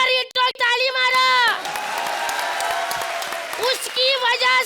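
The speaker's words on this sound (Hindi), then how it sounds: "ताली मारा" A studio audience at a comedy show claps and cheers in a loud, sustained burst. Excited voices shout and call out at the start and again at the end of the applause.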